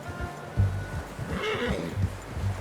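A horse in the video game Red Dead Redemption 2 gives a short whinny amid soft hoof steps and low ambient noise.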